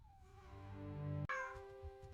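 A kitten gives one clear, drawn-out meow with rising harmonics, then a sharper second cry, close and loud with no talking over it.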